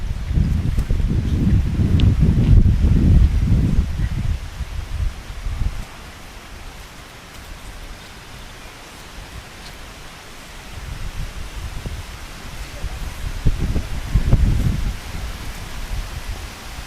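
Strong wind gusting across the open shore of the Wellers Bay Peninsula, a loud low roar that swells, eases off mid-way and builds again, with no voice heard.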